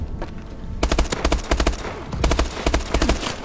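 Rapid automatic gunfire from a gun in the video game Call of Duty: Advanced Warfare crackles in several loud, close bursts separated by short gaps.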